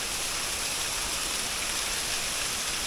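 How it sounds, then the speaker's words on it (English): Aling-Aling waterfall in Bali, a 35-meter fall, roars as a steady, dense broadband rush of falling water, constant and close with no voices over it. "Another waterfall."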